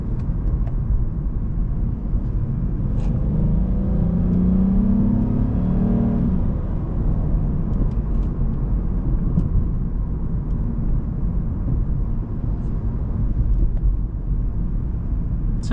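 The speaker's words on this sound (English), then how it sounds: "So it's shifting in the sport mode." A 2015 Lexus IS250 accelerating through its gears in sport mode, heard from inside as a steady droning engine hum with a rising note that eases off at a shift, over constant road noise.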